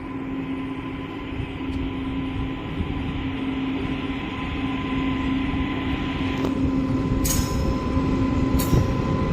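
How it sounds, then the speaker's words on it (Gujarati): Botad–Bhavnagar passenger train starting to move, a steady low rumble with a sustained electrical hum and faint wheel squeals rising gradually, plus a few sharp clanks toward the end. "જો ટ્રેન હાલતી થઈ ગઈ."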